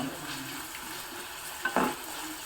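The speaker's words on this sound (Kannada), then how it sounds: "ಗ್ರೀನ್ ಪೀಸ್ನ ಹಾಕಿದ್ದೀನಿ ಹಸಿರು ಬಟಾಣಿಯನ್ನು ಇವೆರಡನ್ನು ಸೇರಿಸ್ಬಿಟ್ಟು ಚೆನ್ನಾಗಿ ಬಾಡಿಸ್ಕೊಳ್ಳೋಣ" Green peas and capsicum sauté in a pan under a soft, continuous sizzle, broken near the end by a sharper scrape of a spoon stirring against the pan.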